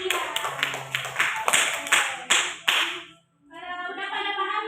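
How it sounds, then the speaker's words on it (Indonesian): Classroom clapping for a student presenter at a microteaching practice session: a few hands clap in a loose, uneven burst for about three seconds, then a voice begins speaking. "Tepuk tangan buat Anggia"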